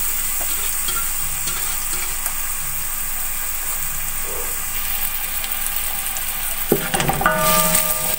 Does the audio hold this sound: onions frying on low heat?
yes